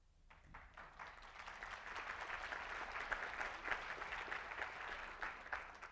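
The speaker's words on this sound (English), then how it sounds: "I didn't have a pause for applause in my script, but thank you." A healthcare presentation audience breaks into applause, many hands clapping in a dense, steady roar that swells after a quiet start and holds evenly through to the end, heard from a moderate distance.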